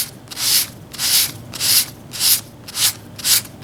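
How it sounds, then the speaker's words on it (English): Sandpaper gently sanding peeling faux bonded leather: six even back-and-forth hissing strokes in a steady rhythm, close and fairly soft, with no voices. "Gently sand it."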